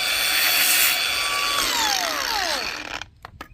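A Makita 18V brushless angle grinder (XAG03) cuts through reeds with a loud high-pitched whine that winds down in falling tones as the trigger is released, ending in a few faint taps.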